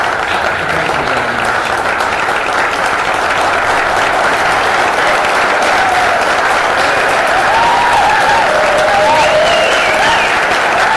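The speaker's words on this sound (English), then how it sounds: "Thank you for your applause." A crowd at a talk on education gives loud, continuous applause, dense clapping holding an even level throughout with a few faint cheers threaded through.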